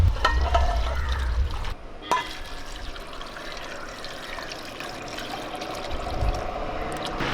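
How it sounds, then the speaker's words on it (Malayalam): Water is poured over about three kilos of tapioca in a cooking pot for boiling in a Kerala kitchen. A close, continuous trickling and splashing pour runs throughout, with a brief dip in level early on. "നമുക്കിനി ആവശ്യത്തിനുള്ള വെള്ളം ഒഴിച്ചു കൊടുക്കാം"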